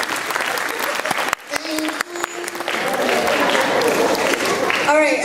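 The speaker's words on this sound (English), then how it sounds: "Please give him a round of applause" A crowd at a music night applauds a performer, with scattered claps and voices at first, then a full, sustained burst of applause and cheering building toward the end.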